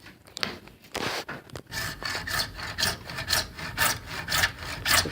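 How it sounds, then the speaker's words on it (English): Hand saw cutting through the tip of a PVC pipe bow, a close, steady back-and-forth rasp of regular strokes after a few brief scrapes at the start, with no talking. "here we're sawing this other side of the tip here"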